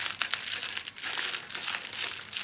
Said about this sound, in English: So let me break some of these corns off